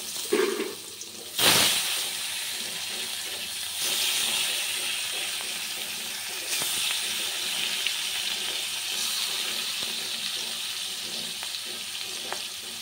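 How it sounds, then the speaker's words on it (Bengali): Salted, turmeric-rubbed fish pieces dropped into hot oil in a wok, a sharp burst of sizzling after a splash, then a steady loud hiss with brief surges. "কড়াইতে তেলটা আমার গরম হয়ে গেছে, এবার মাছগুলো নিয়ে দেব"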